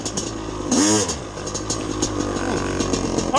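A two-stroke dirt bike engine revs hard and buzzes near and loud as its rear tire spins, the pitch rising and falling through the short burst.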